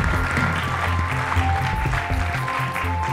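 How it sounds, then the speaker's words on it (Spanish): Audience applause closing a mindfulness talk, a steady wash of clapping running under low background hum and faint tonal sounds throughout. "Quizás podríamos despedirnos con un aplauso para ustedes"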